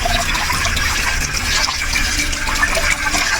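Fish is washed in a vessel of water with salt, a loud continuous splashing and gushing of water churning close by, steady for a few seconds.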